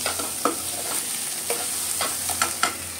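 Sliced onion sizzles steadily in a hot pan as it turns golden brown, with a ladle scraping and stirring in repeated short strokes over the constant frying hiss, close and without talk.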